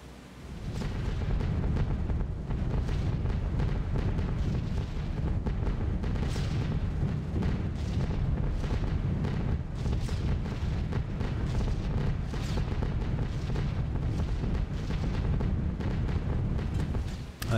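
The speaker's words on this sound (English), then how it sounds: "There's the flak." Anti-aircraft flak bursting around a B-17 bomber in the video game B-17 The Mighty 8th, a dense rumbling barrage of overlapping booms over steady engine drone, thick and continuous throughout.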